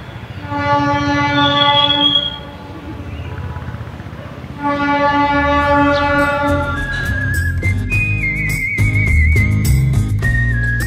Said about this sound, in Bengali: প্রপার্টি থেকে বসে টয় ট্রেনের দারুণ সুন্দর আওয়াজ শুনতে শুনতে